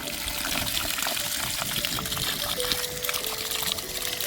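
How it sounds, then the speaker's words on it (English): Water pouring steadily into an older horse's feed to soak it into a slurry, a continuous close trickle and splash lasting throughout with no talk over it. "that is some extra water added to Cora's feed, just to turn that into a slurry"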